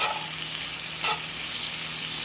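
Steaks sizzle and fry in a hot copper pan, giving a loud, continuous hiss with a brief flare of sharper crackle partway through.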